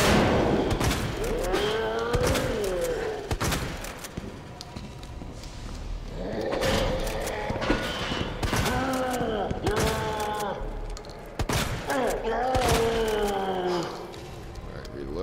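Gunfire in the Resident Evil 2 Remake video game, with repeated sharp shots fired in clusters while someone talks over them throughout.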